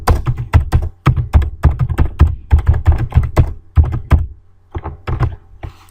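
Rapid bursts of computer keyboard typing while entering HTML code, close and crisp, in uneven clusters of keystrokes with brief pauses, no voices.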